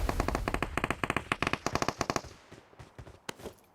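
Nearby automatic gunfire in a PUBG match, a rapid burst of sharp cracks in quick succession, then a few scattered single shots trailing off as the firing thins out.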